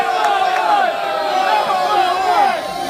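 A crowd gathered at a bar on a summer day hollers and cheers together, a loud, dense mass of overlapping voices sustained throughout.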